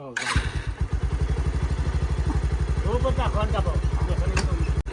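A motorcycle engine runs steadily and close by, its rapid thumping pulse continuous throughout, with people talking over it.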